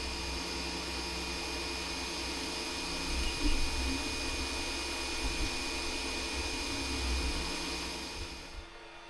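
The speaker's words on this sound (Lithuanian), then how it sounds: "Nu gal ir spausdina šį kartą." A 3D printer runs with a steady whirring fan and motor drone, continuous and fairly loud, with slight swells in level and a faint fade near the end.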